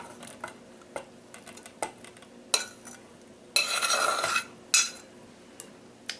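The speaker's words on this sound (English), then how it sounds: "And then we're going to put in our shrimp." Shrimp being added to a mixing bowl for a shrimp mold, heard as a series of scattered soft clinks and taps, then a longer wet scraping stir and a couple of sharp knocks near the end, quiet and close with no talking.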